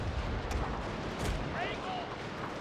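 A Gatling gun opens fire in a Total War battle of the Anglo-Zulu War, defending a British fort. A few sharp reports stand out over dense, rumbling battle noise, with a voice faintly underneath.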